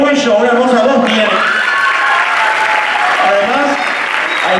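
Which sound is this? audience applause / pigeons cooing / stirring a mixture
audience applause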